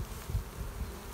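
Honeybees hum at a hive, a low, close, steady buzz with slight swells and no talking.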